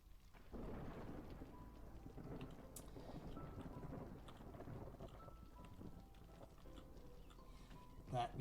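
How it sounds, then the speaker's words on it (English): An approaching storm in the Against the Storm video game brings a steady wash of heavy rain with low rumbling thunder, continuous and fairly faint, with some quiet talk underneath. "that means the storm's coming"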